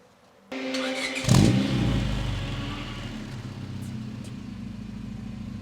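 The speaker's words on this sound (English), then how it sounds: "But this muffler is very good sound." A Honda Civic Type R EK9 fitted with a Spoon muffler starts after a brief quiet moment and gives one sharp rev close by, then settles into a steady, humming idle.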